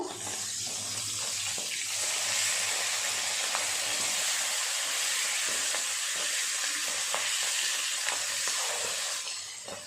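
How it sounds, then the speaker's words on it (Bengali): Fish fries in a pan with a steady, close, loud sizzle that holds evenly from start to finish, with no talking. "এইভাবে উল্টে পাল্টে দুটো পাশই ভালো করে ভেজে নেব"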